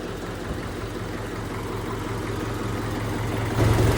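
A tractor fitted with a replacement engine runs steadily nearby, its low, even rumble holding constant before swelling slightly louder at the end, with no voices.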